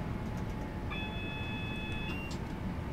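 A Class 323 electric train passes in Train Sim World 4 on the Cross City Line between Redditch and Lichfield. A low rumble runs throughout, with a sustained tonal whine rising briefly in the middle before fading.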